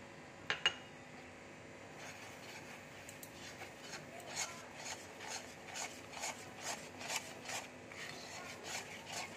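A ripe papaya sandesh mixture bound with milk powder is stirred in a pan, giving steady rhythmic scraping and rubbing strokes, close and fairly soft, with no voices.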